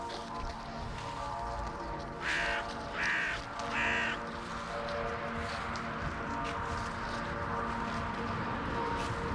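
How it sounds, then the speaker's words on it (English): Several crow caws ring out in a short cluster over steady outdoor background noise, fairly close and moderately loud. "There's our crows."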